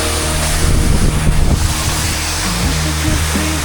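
A forest waterfall roars steadily with loud, dense rushing water, heavy low rumble and wind buffeting the microphone, with no talking.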